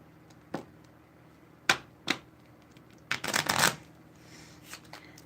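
Psychic reading cards being shuffled and counted out by hand: a few isolated card snaps, then a brief flurry of riffling near the end, close and fairly quiet with no talk.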